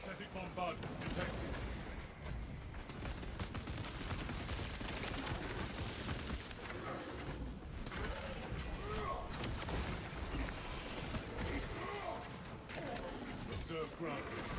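Synthetic bombardment in a horde-mode video game: dense, continuous gunfire and explosive mechanical clatter fill the whole stretch at steady loudness, with game voices talking over the barrage.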